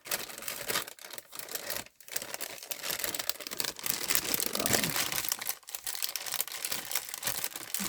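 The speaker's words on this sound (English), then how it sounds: "Sorry, all the crinkling" Loud, close crinkling and rustling of a plastic Christmas gift bag being handled, with continuous crackling bursts and a few brief pauses, no talking.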